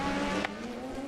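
An American Le Mans Series race car at Long Beach in 2007, heard onboard as it dives into pit lane, its engine a loud steady drone with a brief sharp transient partway through.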